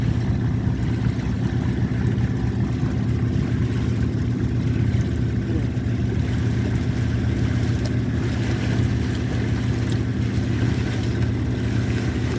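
A fishing boat's engine and propeller running at sea off Foça, a steady, loud, low rumbling drone with a faint wash of water, continuous and unbroken.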